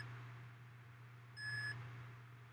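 A TerraMaster F5-422 NAS, with a drive pulled from its RAID5 array, gives a single clear electronic alarm beep lasting under half a second over a steady low hum.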